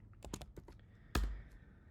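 A Wi-Fi password typed on a computer keyboard, a quick, quiet run of close individual key clicks followed by one firmer keystroke, like pressing enter.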